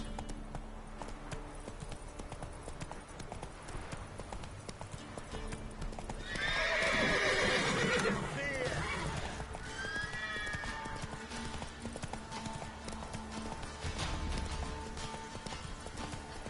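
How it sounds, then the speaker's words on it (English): Horse hooves clip-clopping steadily at a gallop in The Witcher 3 video game, with a loud neigh partway through, over continuous game ambience and no talking. "Run, Roach."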